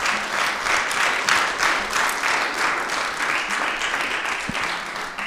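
A church congregation applauds loudly at a sermon, a dense, sustained wash of clapping from a large crowd.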